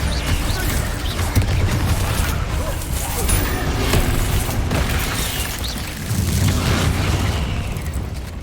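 The Bombarda blasting spell in the Hogwarts Legacy video game goes off amid a combat scene, heavy booming explosions and rumbling bursts rolling continuously, loud and close.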